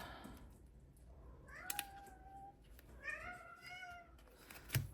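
Several cats meow at close range indoors, rising and falling calls around the middle of a quiet stretch, with a short clatter near the end and no speech.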